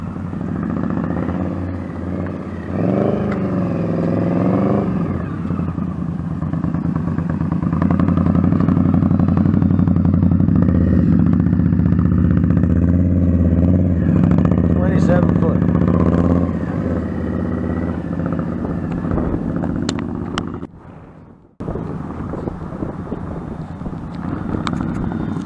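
A motorcycle engine drones steadily while riding, with a voice talking over it and a brief drop in sound near the end.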